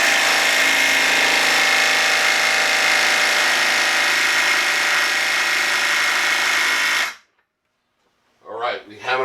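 A Milwaukee M12 Stubby impact wrench tightening in mode 3 hammers continuously and loudly up close for about seven seconds, then stops abruptly; a voice follows briefly.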